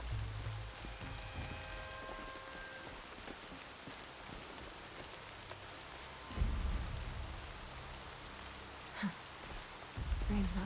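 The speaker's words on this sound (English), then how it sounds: "Rain's not so bad." Steady rain pattering down in Horizon Zero Dawn, a dense even hiss throughout with a few low rumbles and thuds rising underneath.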